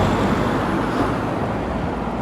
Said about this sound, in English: The car's coming very close to you.